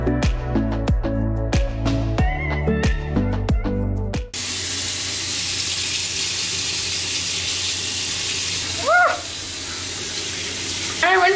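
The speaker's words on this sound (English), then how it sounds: "I rinse my mouth and hold the camera at the same time" Tap water runs steadily into a sink after toothbrushing, a close hissing spray that begins partway through after some clattering and continues alone, with a brief voice-like sound near the end.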